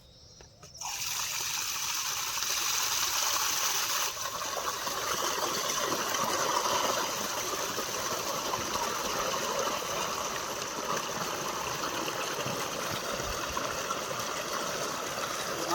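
Muddy water gushes steadily from an irrigation pipe in a village field, a continuous close rushing flow that starts abruptly after a brief quiet moment and keeps going without pause.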